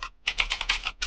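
An email address goes in on a computer keyboard as a short, close run of rapid key clicks, crisp and fairly loud, with a brief gap near the start and no speech.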